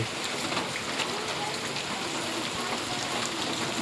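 A heavy downpour soaks Gordka village, Gadhada, Botad district, with water standing on the road: a constant broadband rush of rain holding level throughout, with a faint voice underneath.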